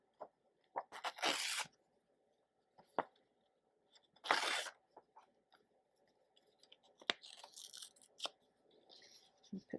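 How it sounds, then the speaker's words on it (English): Paper being cut and handled for a mixed media journal, giving several crisp, papery ripping and rustling bursts with quiet pauses and small clicks between them, close by and with no talk. "I want to cut some of this paper that I got at May's"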